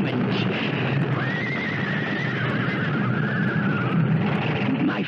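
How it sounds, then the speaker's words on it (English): A panicked lead horse pulling a rig whinnies loudly in a long, wavering neigh over a dense, constant rumble of hooves and wheels, with no talk. "the lead horse panicked, pulling the whole rig to the right"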